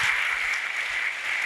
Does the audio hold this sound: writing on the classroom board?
no